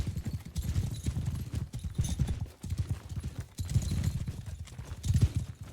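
Several horses' hooves clip-clop in an irregular, overlapping gallop on hard ground in the video game Mount and Blade Bannerlord, steady and fairly close with no talking.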